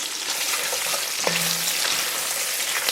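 Onions and garlic sizzling in a hot pan with a pinch of salt while being stirred, a loud continuous frying hiss close up, with a brief scrape of the utensil partway through.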